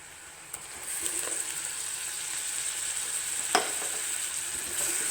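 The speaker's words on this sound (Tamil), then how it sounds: "தக்காளியை அரைச்சிட்டு வந்தாச்சு இந்த தக்காளியை எடுத்து போட்டலாம்" Ground tomato paste poured into hot oil with turmeric sizzles and hisses steadily at close range, punctuated by a few sharp spoon clinks against the pan.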